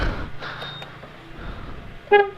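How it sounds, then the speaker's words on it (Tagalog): A camper van horn gives one short, loud honk near the end, after a stretch of quiet engine and background noise. "tingnan natin kung may busina na"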